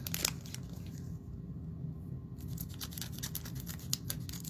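Scissors snip through the plastic wrap of a cello box of Mosaic NBA basketball cards, with crisp repeated cuts and crinkling up close over a steady low background hum, no talking.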